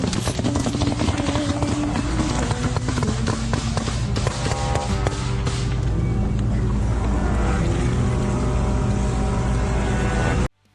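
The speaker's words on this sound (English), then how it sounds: "The SSO uses speedboats and jet skis for surprise raids on the right bank." A loud, steady speedboat engine roar runs throughout at high revs, with a thick low rumble and broadband rush, cutting off abruptly at the end.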